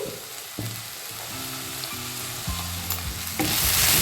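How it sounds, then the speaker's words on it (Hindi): A medium tomato frying lightly in a pan with a pinch of salt while making palak paneer masala: a continuous close sizzle with faint stirring, building louder toward the end. "टमाटर को भी हल्का भूनेंगे।"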